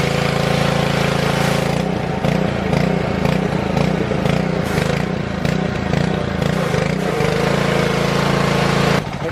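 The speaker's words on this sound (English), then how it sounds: "Windshield wiper motor. Oh. For the rear." A rear windshield wiper motor whirs steadily and loudly throughout, a continuous mechanical drone with a slight rhythmic pulsing and a brief dip near the start and end.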